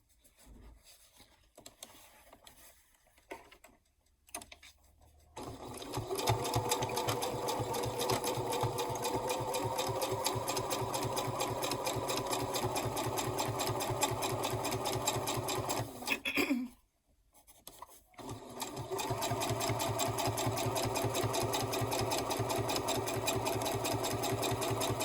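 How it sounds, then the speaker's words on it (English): A sewing machine stitches down the sides of a fabric gift bag with a steady, continuous mechanical whir. It briefly stops and then resumes after some quiet handling at the start. "now I'm going to sew down each side"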